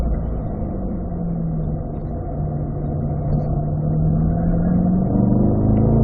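A car on a race track accelerates off a corner, its engine holding a steady mid-pitched drone that slowly rises in pitch and grows louder, heard from inside the car with no talk.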